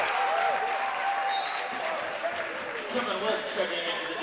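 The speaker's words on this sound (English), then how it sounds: "That Deacon crowd is alive and chirping" Crowd in a high school basketball gym cheering and applauding after a missed free throw, a steady roar of voices and clapping that fills the room, with an announcer talking over it.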